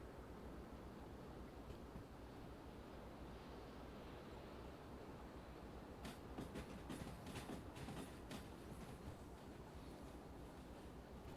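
A train rolls along the rails in the railway game Derail Valley, a steady loud rumble with a run of faint clickety-clack rail joints partway through.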